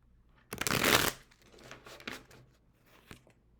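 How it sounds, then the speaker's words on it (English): Tarot cards being shuffled by hand in a sharp riffling burst, followed by softer card handling and taps, close and quiet with no talking. "I need to work on my shuffling."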